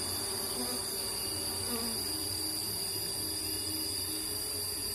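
A dense, continuous insect buzz drones close by, like many bees swarming, with a steady high whine above it and no pauses.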